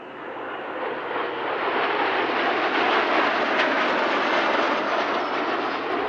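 An aerobatic plane at an airshow makes a loud, sustained engine roar as it passes, rising and holding steady as it rolls through a flourish on its way out.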